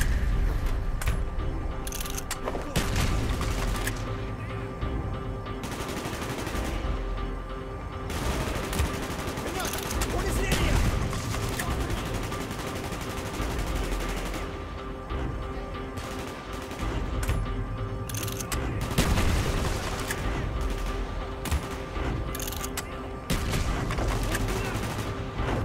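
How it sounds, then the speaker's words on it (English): Rapid bursts of gunfire and explosions in Call of Duty: Black Ops, with shouted voices mixed in, continuous and loud over a droning background. "Gunfire's drawing attention."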